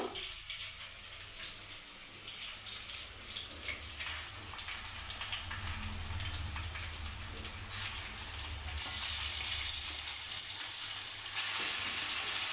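Chicken leg pieces frying for a chicken curry, a steady hiss and crackle of sizzling oil in a pan that grows louder partway through, close and continuous with no talking.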